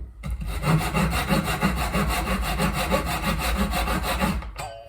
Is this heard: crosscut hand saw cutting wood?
yes